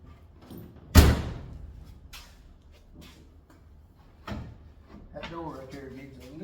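A 1949 car door slams shut once with a sharp, loud thud near the start, followed by a softer knock a few seconds later, with someone talking quietly in between and after.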